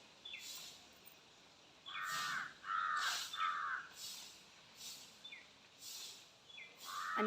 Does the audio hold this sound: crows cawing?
yes